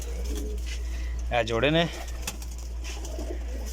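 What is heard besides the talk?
pigeons cooing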